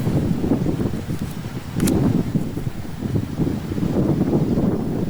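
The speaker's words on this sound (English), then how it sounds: "There you can see it is very windy." Strong gusting wind outdoors among cherry trees buffets the microphone in loud, rumbling waves that swell and ease without pause.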